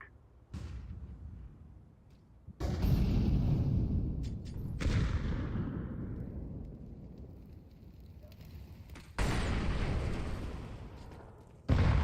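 Counter-Strike 2 match with a flashbang grenade going off among a string of loud, sharp blasts and crackling bursts, each followed by a roaring decay over constant game noise; no speech.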